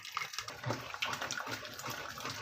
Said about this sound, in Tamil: இப்போ தண்ணியை வடிகட்டிடலாம்